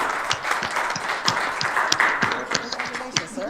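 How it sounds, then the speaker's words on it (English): Hands clap at a city council meeting in a series of sharp, separate claps, fairly close and moderately loud, while a faint voice murmurs underneath. "I'm clapping really loud if you can't hear it"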